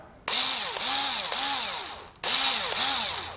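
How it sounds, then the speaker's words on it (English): A cordless screwdriver drives screws into IKEA Molger bathroom shelving: two loud, close motor whines, each a sustained buzzing run with a pulsing rhythm, separated by a brief pause. "Now I can plug this into my cordless screwdriver."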